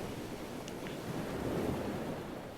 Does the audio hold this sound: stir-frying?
no